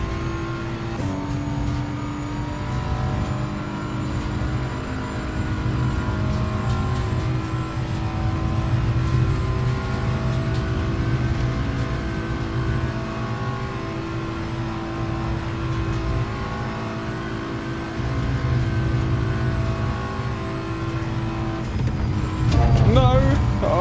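A BMW race car engine in the Assetto Corsa EVO racing game drones steadily and loudly throughout, with rising and falling revs and a brief change in pitch near the end.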